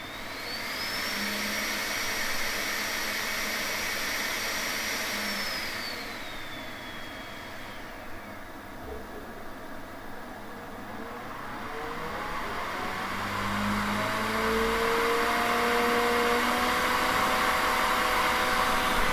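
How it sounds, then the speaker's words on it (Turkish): Cooling fans of a Creality K1 Max 3D printer make steady whirring noise, loud and continuous, with a high whine that fades partway through before the airflow swells again. "Soğutma fanlarını buradan manuel ayarlayabiliyoruz."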